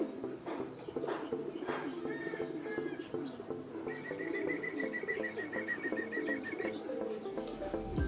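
Racing pigeons coo softly as they arrive at a loft during a summer fun race, with a low burbling murmur that continues throughout, a few sharp clicks, and a faint whistling tone in the second half.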